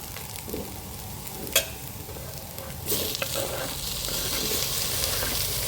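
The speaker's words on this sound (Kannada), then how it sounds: "ಫ್ರೈ ಮಾಡಿಕೊಂಡು ಆದಮೇಲೆ ನಾನು ಟೊಮೆಟೊ ಹಾಕ್ಕೊತಾ ಇದ್ದೀನಿ" Tomato being stirred and fried in a pan for egg puff filling, a steady soft sizzle with scraping spoon strokes, a sharp clink near the start and the frying growing brighter and louder in the second half.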